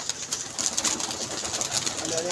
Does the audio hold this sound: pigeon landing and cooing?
yes